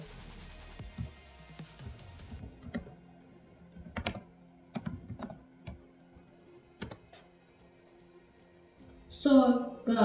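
Keyboard typing on a computer while searching in a web browser: scattered bursts of soft clicks in short clusters, interleaved with quiet pauses and a brief louder rustle near the end.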